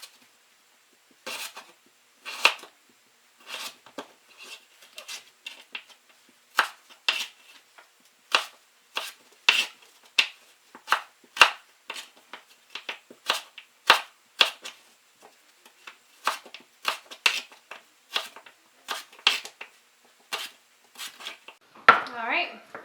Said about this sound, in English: cut it into long strips like this and then cut it sideways